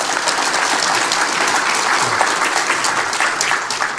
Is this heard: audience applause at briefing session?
yes